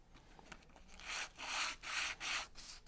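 Body filler putty on a curbed BMW or MINI alloy wheel is sanded by hand into shape, with several close, rhythmic abrasive strokes that build to loud back-and-forth rasps in the second half.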